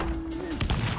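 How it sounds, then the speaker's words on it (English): A Dragon's Dream bomb from The Witcher 3 ignites its gas cloud, giving a burst of broadband blast noise that swells midway through the short clip over steady game background, with a faint tonal hum fading beforehand. "We didn't get to see the explosion very well, but it seemed to have worked out properly."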